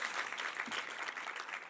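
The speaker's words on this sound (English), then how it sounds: "a big, massive round of applause to our AV team as well that have looked after us today" Conference audience clapping for the AV team, a dense burst of steady applause from a crowd in a hall.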